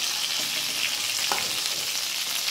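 Pieces of rohu fish fry in oil in a pan, making a continuous close sizzle with a soft bubbling texture and a brief stirring scrape partway through. No one speaks.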